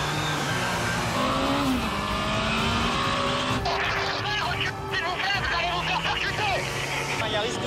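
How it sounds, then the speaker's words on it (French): A car racing at 145 km/h on the Paris ring road, a loud continuous engine roar with rising tones and tire noise throughout, close and steady, with a voice faintly mixed in. "Un véhicule 145 km/h."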